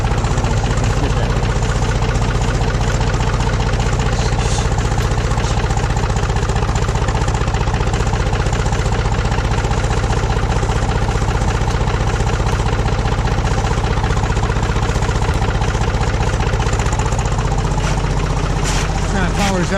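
A backhoe engine idles loud and close in a steady low rumble that holds throughout, with a slight shift near the end; voices talk faintly beneath the engine noise.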